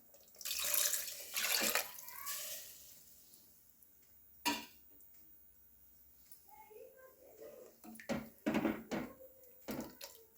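Water is poured into a pan of keema curry masala in bursts, with splashing gushes early on and again near the end and a quieter stretch between them.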